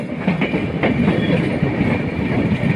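LHB-coach Madhumati Express running near Ishwardi Junction, a brief close stretch of steady rumbling with distinct clickety-clack wheel beats.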